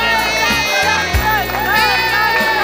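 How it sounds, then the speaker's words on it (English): Outdoor crowd at a Goan community sports day cheering and clapping for a prize winner, a lively burst of mixed voices and children's shouts heard close, with amplified talk over it. "A big cheer please for Jack Figuero."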